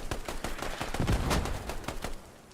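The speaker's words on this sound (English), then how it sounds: "These mortars they are just launching these mortars 50 meters to the south." Mortar fire in the military shooter Squad, a fast series of dull thumping launches and distant blasts repeating over a steady rumbling battlefield background, fairly faint and with no one speaking.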